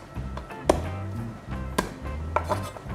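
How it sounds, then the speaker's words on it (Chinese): A kitchen knife chopping crushed garlic cloves on a board while prepping a cauliflower and mushroom risotto: a few sharp, close knocks spaced about a second apart over a low, steady background hum. "切碎佢。"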